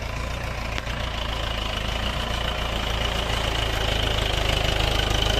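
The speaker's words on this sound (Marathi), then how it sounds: "हा ट्रॅक्टर चालू झाला आहे बघा" A farm tractor's engine runs steadily and close by, a continuous low rumble with a faint knocking beat and a brief click near the start, no voices over it.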